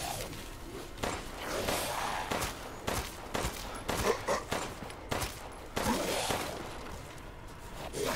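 Rapid gunfire in Resident Evil Village: repeated loud shots and bursts, close and sharp, coming in clusters through the whole stretch with little pause.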